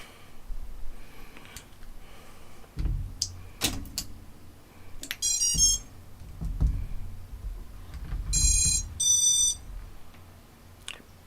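An FPV drone's electronics chirp in short bursts of high rising beeps, two clusters about three seconds apart, mixed with quiet handling clatter and knocks on a workbench.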